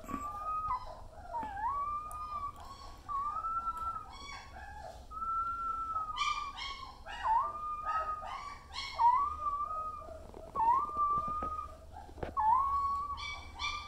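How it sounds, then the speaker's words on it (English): Newborn German Shepherd puppies whimper close by in a series of thin, rising, whistle-like cries, roughly one every second or two, over faint background noise. "That's a healthy little sound there that I like to hear from the puppies. May sound distressed, but it's not really. It's kind of like a little whimpering"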